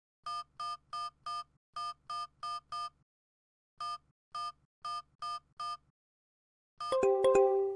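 Mobile phone keypad tones sound while entering a SIM banking money transfer: short, evenly spaced beeps come in quick bursts of several presses, followed by a louder confirmation chime at the end.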